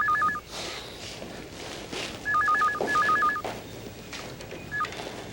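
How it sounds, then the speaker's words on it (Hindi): A landline telephone ringing in a home, with bursts of electronic ring tones in several repeated groups, fairly close and clear with no talk over it. "बाबूजी फोन।"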